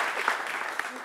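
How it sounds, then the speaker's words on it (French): A brief stretch of television studio audience clapping, dense and steady, with a couple of sharper claps standing out. "on applaudit très fort, Bazé."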